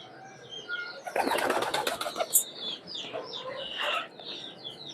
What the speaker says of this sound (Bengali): দেখুন কবুতরগুলা ওপেন এভিয়ারিতে কিভাবে বসে আছে